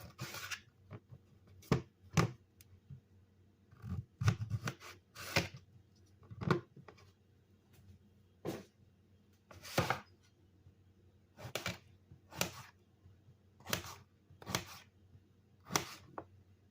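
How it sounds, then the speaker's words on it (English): Yellow squash being chopped with a knife on a cutting board, about a dozen sharp, distinct knife strikes spaced irregularly, close and clear over a quiet background. "you start by chopping your squash."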